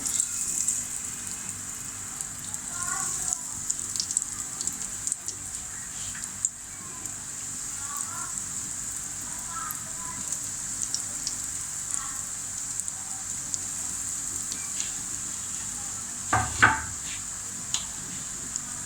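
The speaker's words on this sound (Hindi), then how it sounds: "अब इसमें ये हम अपने रोल फ्राई कर लेंगे।" Potato rolls fry in hot oil over a medium flame, giving a soft, steady bubbling crackle like light rain, with occasional faint clinks and a brief louder knock near the end.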